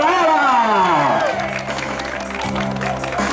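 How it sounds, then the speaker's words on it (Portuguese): Applause and cheering from a crowd greeting a birthday surprise, loud and continuous, with a sung or voiced melody sliding over the clapping throughout. "Uma salva de palmas pra ela!"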